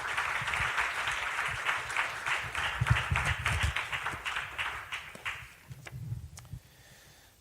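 A football awards show audience bursts into dense, sustained clapping that stays loud for several seconds, then thins to a few scattered claps and fades out near the end.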